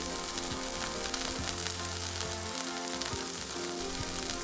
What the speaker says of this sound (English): So I cook prawns first